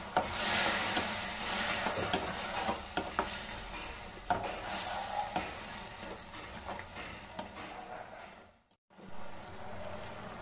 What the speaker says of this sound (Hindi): इसमें स्वादानुसार नमक मिलाएं और टमाटर के पल्पी होने तक उसको भूनें